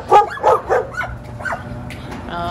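Dogs bark nearby outside an open garage where classic Porsches sit stored, a quick run of three sharp barks followed by softer yips and whimpers, then a quieter stretch.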